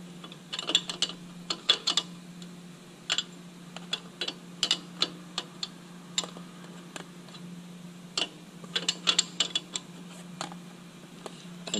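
Wrench tightening a lock nut while adjusting tappet clearance on an aircraft engine, a series of sharp metallic ticks and clicks in irregular bursts over a low steady hum, close up with no speech.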